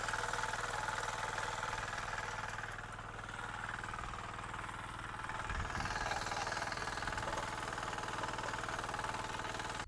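A mini weeder's small engine runs steadily for the whole stretch, a close, loud, chugging mid-pitched drone with a slight dip and a brief knocking surge partway through, no voices.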